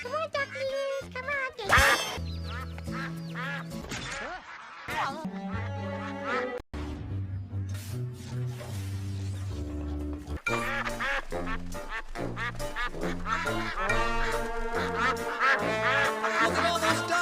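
Ducks quack close by in a busy run of repeated calls, with musical backing and talk mixed in throughout.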